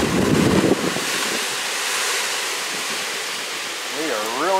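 Hurricane winds roar in a steady, loud broadband rush against the microphone, with a voice briefly heard at the start and end.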